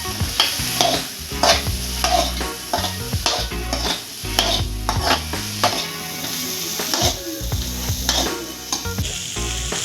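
Kitchen king and garam masala mixture stirred in a hot pan, with a loud continuous sizzle under busy, rhythmic scraping of the spoon against the pan.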